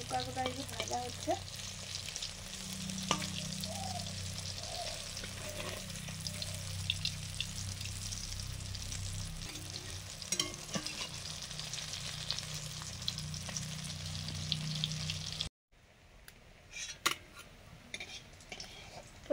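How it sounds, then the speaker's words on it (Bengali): Elephant foot yam dhoka pieces frying in hot mustard oil give a continuous close sizzle with scattered sharp ticks and spatters, then a short gap before the sizzling returns. No voices. "থোকাগুলো এই যে ভাজা হচ্ছে।"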